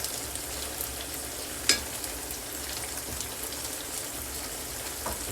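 Onion, garlic and ginger fry in a pan for a lemon chicken stir-fry, giving a soft, continuous sizzle with one brief clatter near the start and another faint knock later.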